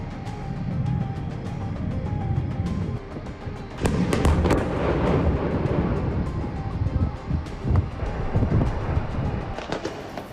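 A phosphorus bomb attack on Gaza sounds as distant rumbling booms and crackling bursts over steady wind noise, growing denser and louder partway through.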